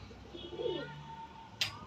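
Soft, low cooing of a captured pigeon murmurs close by, with a brief sharp rustle or flap near the end against quiet background noise.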